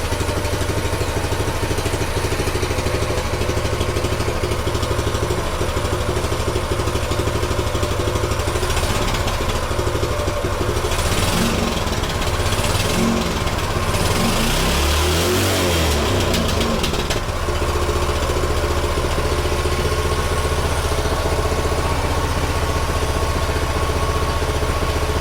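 A Yamaha Warrior 200cc ATV engine idles steadily as it warms up, a loud and close continuous drone with a brief rise in the middle, and nobody speaks.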